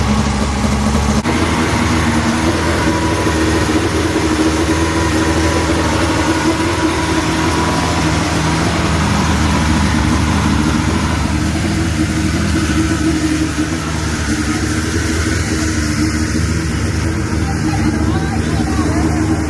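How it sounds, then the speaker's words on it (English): Race car engines idle at the BC39 track in a steady, loud, low rumble that fills the whole stretch, with people talking over the continuous engine noise. "We got cars on the track."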